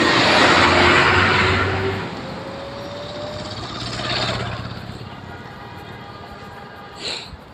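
A travel bus passes on a roadside near a petrol pump, its loud, rushing engine and tyre roar sweeping close and then fading into steady traffic noise.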